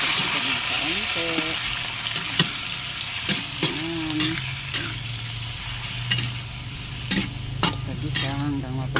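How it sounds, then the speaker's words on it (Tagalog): Chicken pieces sizzle steadily in a hot pan while a utensil stirs and scrapes them at irregular intervals, with someone talking over the frying now and then. "Ito na ang ating chicken."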